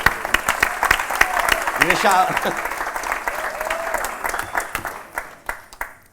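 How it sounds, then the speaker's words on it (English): Audience applause at a Q&A event in London, with clapping and cheering filling the room and a voice speaking briefly over it before it thins out toward the end. "Like, let's clap it up."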